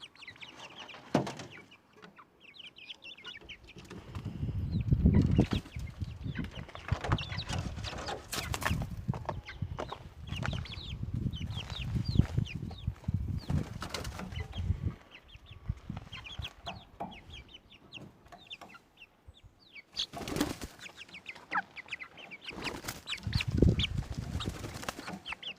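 Hens and a rooster cluck and squawk in irregular bursts, with occasional wing flaps and louder outbursts, the calls close and fairly busy throughout with no speech.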